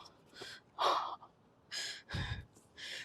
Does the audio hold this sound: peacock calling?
no